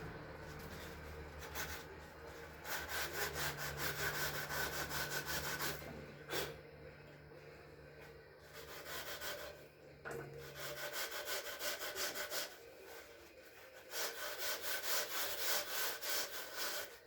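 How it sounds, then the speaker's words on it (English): A foam block sander rubs back and forth on a 2008 Pontiac G6, giving a steady close scratchy sanding with brief pauses and a low hum underneath. "Take this foam block sander and see what I can do here."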